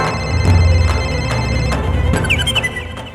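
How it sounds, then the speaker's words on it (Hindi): A mobile phone rings loudly and close by, its repeating electronic ringtone pattern playing continuously, with no talk over it. "फोन यहीं कहीं बज रहा है"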